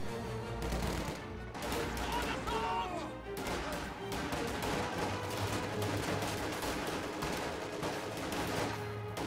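Bursts of MG42 machine gun fire crackle through a video game battle in a ruined town, layered over constant dense combat noise of gunshots and crashes that runs loud for the whole stretch.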